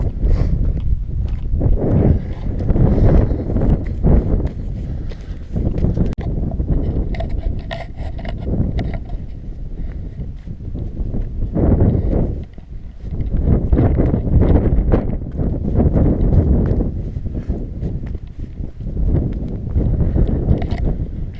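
Cold, keen wind buffets a microphone on an exposed upland walk up Moel Famau, a loud continuous low roar that surges and eases in gusts, with faint movement underneath and no speech.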